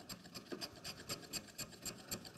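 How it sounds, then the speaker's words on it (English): Shallow carving strokes on the long underside of a wooden scoop, a close, steady rhythm of about ten quick rasping cuts, evenly spaced, with no talking. "I'm taking the shallow strokes here just to feather into the long underside of the scoop"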